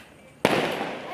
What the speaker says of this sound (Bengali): দেখ এখানে আয়, বাজিটা ফাটছে দেখ।